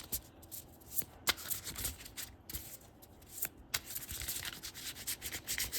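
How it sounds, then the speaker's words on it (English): Papery shuffling of tarot cards, with soft rubbing and irregular crisp riffles and taps that come and go at close range, no talking. "And we'll shuffle a bit."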